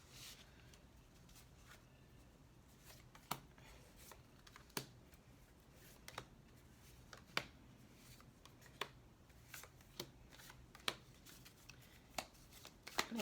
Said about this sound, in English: This will be our final shuffle.